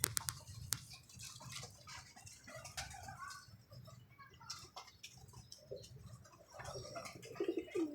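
Pigeons coo softly and repeatedly at close range, low rounded calls recurring through the stretch over faint background noise.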